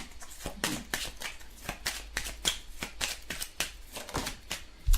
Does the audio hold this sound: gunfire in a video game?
no